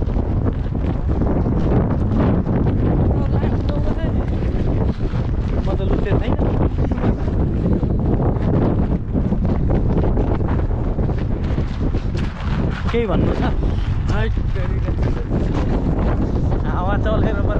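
Strong wind buffets the microphone outdoors in Yosemite National Park, a loud, constant rumbling roar filling the whole stretch, with a voice speaking briefly beneath it.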